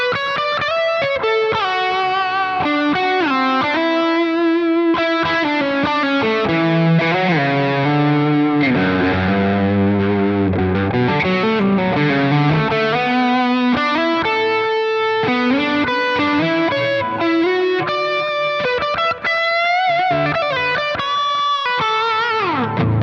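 Electric guitar through a self-made Archer capture on a Quad Cortex, a loud, continuous overdriven tone playing a dense chord and lead passage with rich sustained notes and smooth distortion throughout.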